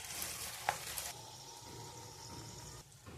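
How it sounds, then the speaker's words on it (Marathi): Palak puri slipping into hot oil and frying, a steady faint sizzle with a brief louder crackle near the start, then an even bubbling hiss that fades slightly toward the end. "आपलं तेल गरम झालेलं आहे. आपण यामध्ये सोडूया पुरी."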